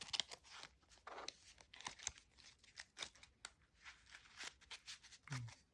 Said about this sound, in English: Shuffle those back into my ED